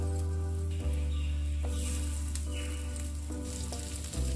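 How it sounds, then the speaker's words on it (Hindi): Chicken fingers fry in oil on a non-stick pan over medium to low flame, a steady close sizzle and crackle with occasional sharper pops as pieces settle into the hot oil. "तो चलिए अब इन्हें फ्राई करते हैं। यहाँ मैंने एक नॉन स्टिकी तवा लिया है और उसमें ऑयल ऐड कर दिया है"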